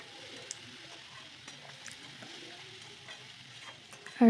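Turmeric and cumin powders fry with egg and potato curry in a pan, giving a steady low sizzle with faint stirring scrapes, and a louder clatter right at the end.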